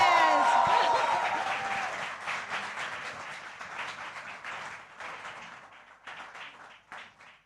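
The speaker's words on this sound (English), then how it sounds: "A loud, loud applause, everybody." A large audience at a film promotion for Sikandar Ka Muqaddar with Tamannaah Bhatia, Jimmy Sheirgill and Avinash Tiwari breaks into loud, dense applause that starts at full strength and slowly thins and fades over several seconds.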